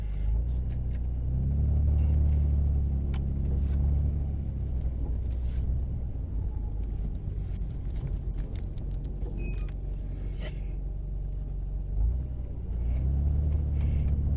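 A 1999 Nissan Skyline R34 GTR V-Spec N1 driving on a road test, heard from inside as a steady low engine rumble and road noise that swells with acceleration, under occasional talk.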